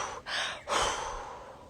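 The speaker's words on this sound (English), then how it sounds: "In and out of the mouth. Emphasis on that exhale," A forceful breathwork breath through the mouth, close and loud. A short rush of air cuts off, then a longer, stronger exhale blows out and slowly fades.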